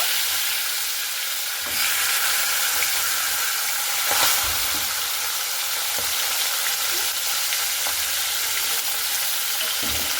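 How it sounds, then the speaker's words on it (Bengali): Fish heads fry in hot oil in a kadai with a loud, continuous hissing sizzle. Occasional soft clicks and shifts come through, and no one speaks. "তো এগুলো আগে ভেজে নেব, তারপরে বাকিগুলো ভেজে নেব।"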